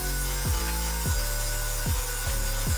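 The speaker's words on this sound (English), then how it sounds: "let's grind this down and see if we got it." A grinder steadily whines while grinding down a weld on metal, producing a continuous loud, bright rasp with a few brief dips in pitch as pressure on the workpiece shifts.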